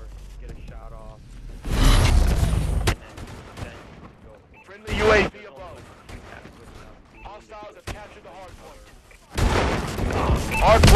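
Bursts of automatic gunfire in a military shooter match, loud rattling volleys in three separate bursts with single sharp shots between, while people talk over comms throughout.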